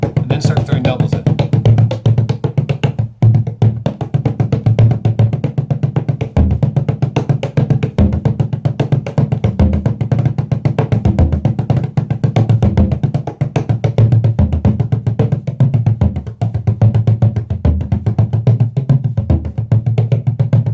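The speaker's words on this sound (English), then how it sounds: "starting with this in the jig pattern, no doubles, and then start throwing doubles in." Hand drum played in a steady jig pattern, loud and close, with a rolling triplet pulse of deep thumps and light taps, alone without talk.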